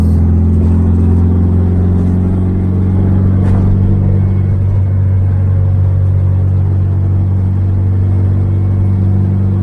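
A 1972 VW Super Beetle's air-cooled engine drones loudly and steadily from inside the car while driving on the road, a constant low rumble with slight shifts in pitch and no talking.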